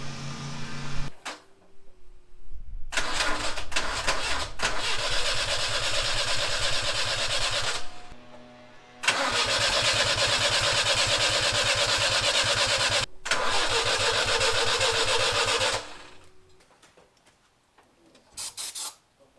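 An old Ford Ranger truck engine, abandoned and not firing on all four cylinders, cranks and catches, then runs loud and uneven with a rough, sputtering idle, cutting out and restarting several times, close by.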